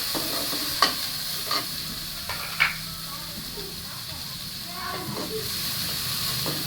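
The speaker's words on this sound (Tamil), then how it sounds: "வெங்காயம் போட்டு நல்லா வதக்கிக்கலாம்." Onions sauté in a hot pan, a continuous sizzle with a few sharp utensil clinks and stirring scrapes spread through it, fairly close and even in level.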